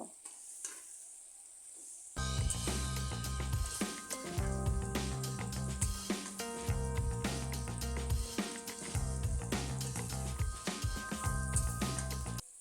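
Puti fish sizzle and crackle loudly as they are stirred into hot oily masala in a pan, with steady frying hiss and scraping stir strokes starting after a quieter opening.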